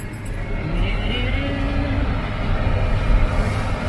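A 2018 Dodge Grand Caravan pulls away on a test drive, its engine note rising steadily with road rumble building underneath, heard from inside the cabin.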